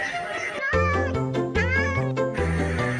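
Several loud, clear meows from a cat, used as the animal sound in a children's nursery song, ring out over a bouncy musical accompaniment with a stepping bass line.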